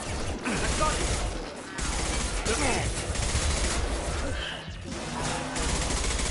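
Sci-fi weapon fire from Mass Effect 2 comes in quick, clattering bursts mixed with mechanical clicks and battle noise, with brief talk over it.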